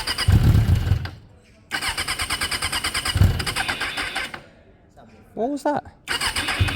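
A motorcycle with a dead battery cranks in sluggish, labored bursts that stop and restart, the starter grinding rhythmically without catching; voices speak between the attempts.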